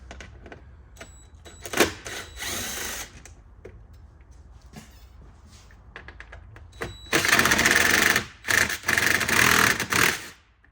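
Power driver backing out Torx screws from the upper dash of an HD11 machine, giving short whirring bursts between quiet pauses and clicks, then a longer, louder run of close whirring near the end.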